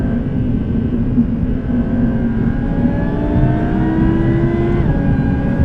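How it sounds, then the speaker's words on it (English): An 800-horsepower supercharged Audi R8 engine drones loudly and steadily from inside the car while driving, its pitch climbing smoothly as it revs through the gears, with no one speaking. "That's how free-revving this engine is."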